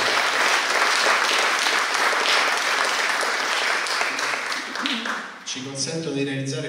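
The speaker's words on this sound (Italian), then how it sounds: "facciamo un applauso a loro" A festival crowd at Civita Cinema claps for media partners, thick sustained applause that thins toward the end as a voice comes in over it through the last second or so.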